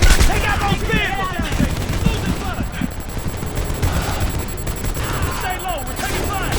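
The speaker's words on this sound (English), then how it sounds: "Stay low, we're taking fire!" Dense, continuous rifle and machine-gun fire in the video game Homefront, with rapid bursts and distant booms of combat throughout, loud and sustained, with shouted voices mixed into the battle noise.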